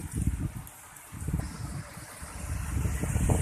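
A strong storm wind is buffeting the microphone outdoors in rural Thailand, with gusty, uneven rumbling that swells and eases and grows louder toward the end.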